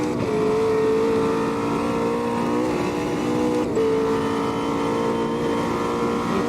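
McLaren 720S GT3 race car engine at the Nordschleife in the Automobilista 2 racing game, a loud steady high-revving drone held nearly constant with a brief dip and shift partway through, no talk over it.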